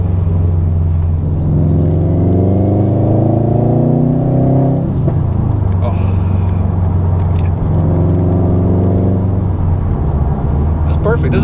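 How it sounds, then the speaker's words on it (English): A 2019 Subaru STi with a Remark catback exhaust revs and settles, giving a loud, close, deep engine rumble with rising pitch, then a burbling idle with crackles. A voice speaks briefly over it. "it backfires, which is the best part. It's got that little burble, like."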